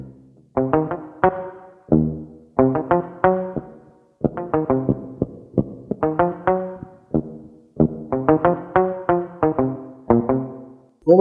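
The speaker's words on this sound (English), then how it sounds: "Muted guitar." A Casio CT-S300 keyboard plays its muted guitar tone, short plucked damped notes in quick runs and chords with gaps between phrases, clear and close with no talking.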